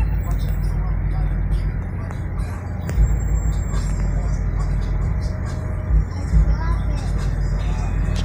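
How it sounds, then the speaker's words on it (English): Downtown Detroit city traffic of cars and buses, a steady low engine rumble with occasional hiss-like bursts and passing vehicles, heard close, with a voice faintly present over it. "Traffic is out of control down here"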